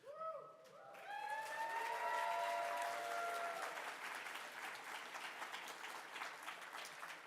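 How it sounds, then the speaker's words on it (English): A small convention mainstage crowd claps for circus-style performers, the applause swelling after a brief opening tone and staying steady and fairly close, with some cheering mixed in. "I really want to encourage you to clap for the performers"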